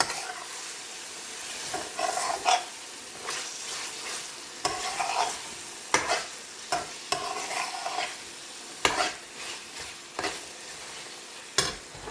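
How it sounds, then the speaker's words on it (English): Garlic chilli chicken with spices and green chilies stirred in a sizzling pan, a low frying hiss broken by repeated scraping strokes of the spoon at irregular intervals, close and alone. "Give that a stir."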